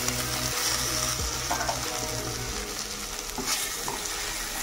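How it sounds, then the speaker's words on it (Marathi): Raw banana pieces frying with crushed peanuts in a pan for a fasting-day vegetable dish: continuous close oily sizzle with scraping stirs and light utensil knocks, no voices. "याच्यामध्ये आपण आपले केळीचे पीसेस टाकून घेणार आहोत।"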